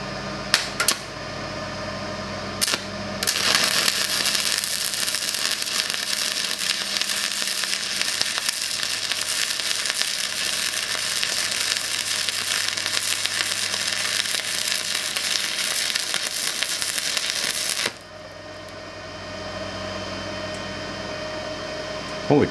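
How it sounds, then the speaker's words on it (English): A Vevor 140 amp stick welder running at 90 amps lays a weld on metal, giving a steady loud crackling sizzle for about fifteen seconds before it cuts off, with brief clicks and taps around it. "Holy crap, it actually welds."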